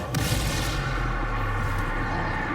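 In the Hogwarts Legacy video game, a Confringo blast spell goes off as a dense, loud, rumbling explosion that holds at full strength across the short moment.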